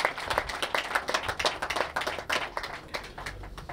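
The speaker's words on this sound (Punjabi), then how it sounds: "ਇੱਕ ਵਾਰੀ ਤਾੜੀ ਤਾਂ ਮਾਰ ਦਿਓ" An audience at the opening of a funeral directors' new branch in Leicester claps, a brisk burst of overlapping hand claps close by that tapers slightly toward the end.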